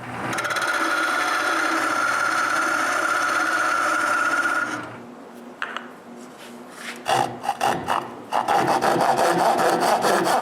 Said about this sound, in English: I make the first cut with the handsaw before returning to the scroll saw